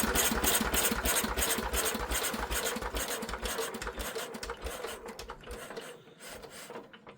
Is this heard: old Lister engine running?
yes